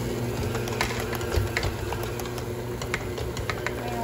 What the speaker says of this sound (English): I don't know what's wrong with the mixer, it's kind of like bouncy.